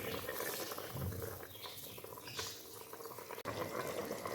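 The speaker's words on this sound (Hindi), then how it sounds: "अब इसमें आराम आराम से चावल ऐड करते हैं।" Soaked rice pours into boiling water for mutton pulao, bringing a faint, continuous bubbling and watery patter with a brief soft clink near the end, and no one speaking.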